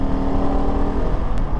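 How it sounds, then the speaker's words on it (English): A modified KTM 690 Enduro single-cylinder motorcycle engine pulls steadily under load, giving a close, continuous droning hum with a low, throbbing tone and no talking. "The engine seems to really pull really well at pretty much any RPM."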